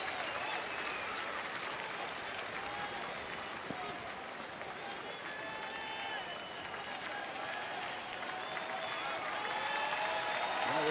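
A ballpark crowd cheers and applauds at a Houston at Texas baseball game in the 8th inning, a broad, sustained roar of clapping and shouting that swells slightly toward the end while a commentator talks over it.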